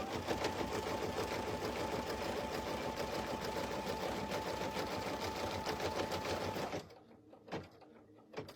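Embroidery machine stitching the top part of an in-the-hoop slap bracelet, a steady close mechanical chatter with a constant hum that runs for several seconds and then stops, leaving a few faint clicks.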